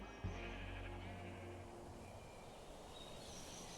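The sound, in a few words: sheep bleating in the video game Minecraft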